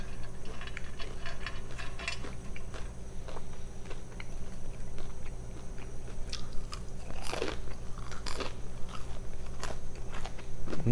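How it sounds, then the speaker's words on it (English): Crispy McDonald's fries are crunched and chewed close up, a string of sharp, irregular bites and crackles over a low steady background hum. "The fries are very crispy."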